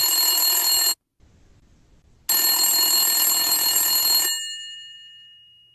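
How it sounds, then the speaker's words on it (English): A cell phone rings loudly in a bright electronic tone, with two bursts separated by a short gap of near silence, the last ring fading out at the end. "Let us call him in his cell phone"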